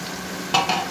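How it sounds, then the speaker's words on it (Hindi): Spices for beef pulao fry and sizzle in a pan, with a brief scrape of stirring partway through. "इसको हम भूनेंगे हल्का सा"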